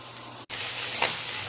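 Diced potatoes added to onions sizzle and fry in a hot pan, a steady loud crackling hiss throughout, with a brief clatter near the start and a stir midway; no voices.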